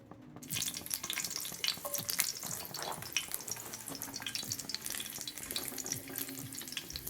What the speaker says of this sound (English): I'm going to put a piece of garlic actually in the oil. Get that now. And yeah, get frying.